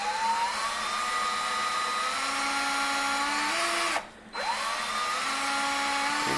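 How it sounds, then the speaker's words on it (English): Steady whine of a power drill with a 1/8 inch bit boring through a stainless Stanley camp cup, running continuously up close with a brief stop partway before resuming. "it might take a little while to drill through here in the angle I'm at"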